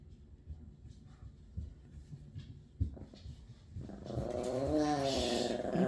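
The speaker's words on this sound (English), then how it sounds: "Evie doesn't like Lorenzo. That's why she's growling" A pet cat growls at a pet rabbit indoors: soft low rumbling at first, swelling in the last two seconds into a loud, harsh, sustained growl close by.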